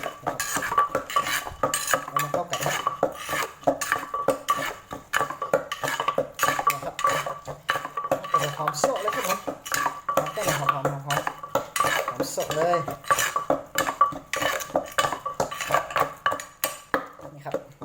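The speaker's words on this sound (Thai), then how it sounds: "คนๆให้เข้ากันครับ" Pounded eggplant salad is mixed with a utensil in a bowl, giving a fast, continuous run of clinking, scraping and wet stirring taps, close and fairly loud throughout, with no talking.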